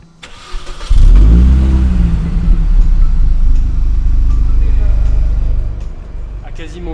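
A Mini Cooper S R52 convertible engine cranks and catches, then revs up loudly and close by, settling into a steady idle hum while a person talks over it.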